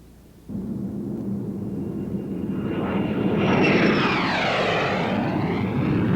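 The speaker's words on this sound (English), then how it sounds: "A U.S. Navy F-8U Crusader and two little fragile fighters from another time." A U.S. Navy F-8U Crusader jet flying with vintage fighters at an air show, a loud broad engine roar that starts abruptly and swells as an aircraft passes close, with a sweeping pitch shift.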